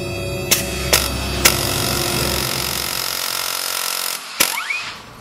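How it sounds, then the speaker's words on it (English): Three sharp metallic hits ring out over a loud, steady air hammer knocking a soft metal pulley off a lawn mower engine; the hammering stops, then one more bang is followed by a brief squeal. "So now the pulley should come off with the air hammer."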